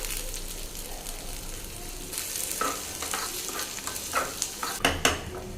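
Onion, garlic, cumin and curry leaves sauté in a pan, a steady sizzle broken by increasingly frequent spatula scrapes and clinks against the metal toward the end.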